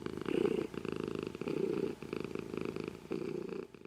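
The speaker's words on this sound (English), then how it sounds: "The cat purred." A cat purrs steadily and close by, a soft rhythmic rumble rising and falling in four even breaths with brief pauses between them.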